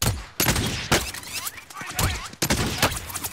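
Gunfire in a squad-based video game comes in several loud, sharp bursts spaced roughly half a second to a second apart, each with a crackling tail, close and dominant.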